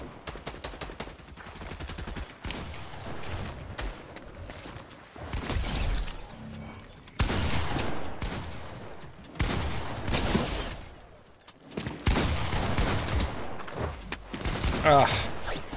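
Gunfire in Fortnite Zero Build comes in clustered bursts of rapid shots separated by brief quiet gaps, with a voice talking at times over the fighting.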